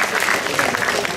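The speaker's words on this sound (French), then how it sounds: "Merci, on applaudit très fort." A brief burst of crowd clapping at a live French-speaking stage event, busy and moderately loud throughout its short span.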